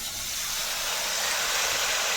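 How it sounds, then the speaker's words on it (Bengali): Masala frying in a pan for an ilish fish curry with kochu greens, giving a steady, loud broadband sizzle that holds evenly throughout with no pauses and no talking. "এবার মশলাটাকে একটু কষিয়ে নেব"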